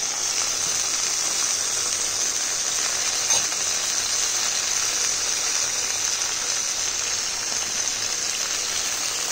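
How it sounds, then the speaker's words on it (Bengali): Water poured into a frying pan of soya chunks, a steady hissing sizzle that holds at the same level throughout, close and continuous with no talk. "একটু জল দিয়ে দিচ্ছি।"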